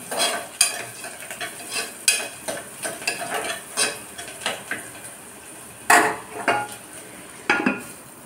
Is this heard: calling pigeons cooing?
no